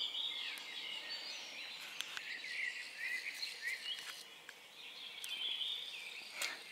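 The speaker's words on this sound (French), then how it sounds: "Les oiseaux chantent." Birds chirp and trill outdoors at first light, around half past two in the morning, with overlapping high calls that come and go at moderate distance and a faint insect-like buzz beneath them.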